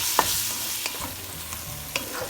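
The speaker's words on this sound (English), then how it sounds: "Now I'm gonna add my onion. And I will cook it until it will be a golden brown." Onions fry in a pan with cumin for chicken biryani, a steady sizzle under repeated spoon scrapes and taps, about four distinct strokes, close and without voices.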